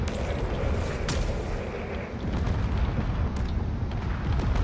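Torpedoes slam into a frigate during a space battle in the game Drone Wars, a dense, continuous rumble of booming explosions and crackling bursts with sharp impacts near the start.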